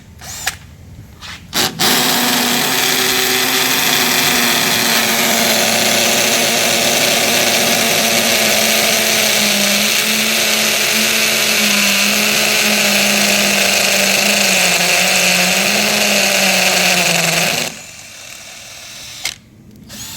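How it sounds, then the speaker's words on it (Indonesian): Bitec CSR 12-2 cordless impact drill boring into a wall with an 8 mm bit, a loud continuous grinding hammer-drill whine lasting about fifteen seconds, then stopping, with brief handling noise before and after. "fungsi untuk impact drill atau untuk ngebor tembok"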